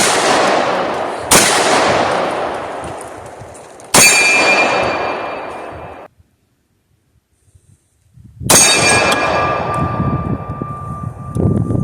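9mm pistol shots, likely from a confiscated police-auction gun, with brass casings ejecting: three sharp close reports with ringing decays, a silent pause, then a fourth shot followed by metallic clinks of brass.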